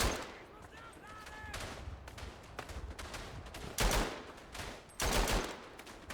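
Bursts of machine gun fire from German gunners in the WWI shooter Verdun, with sharp repeated shots and heavier blasts, scattered battlefield gunfire in a dense crossfire.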